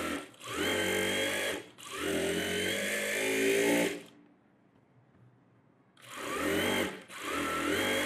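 A sewing machine stitching a net model blouse runs in loud, close bursts, whirring steadily for a few seconds, pausing briefly, then starting up again, with no talking.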